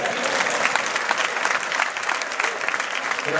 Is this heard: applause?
yes